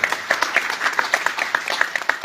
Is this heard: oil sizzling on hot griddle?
no